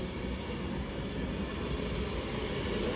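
A train departs Stoke-on-Trent station for London Euston, a steady loud rumble of the engine and rolling wheels filling the platform with no voices heard.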